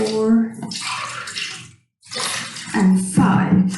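Glasses of water are poured one after another into a pot for lentil soup, splashing bursts with a short pause between pours, while a voice counts along.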